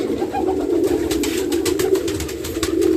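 Continuous low cooing from several pigeons in a winter breeding loft holding eggs and chicks, close and steady, with faint rustling and scratching over the calls.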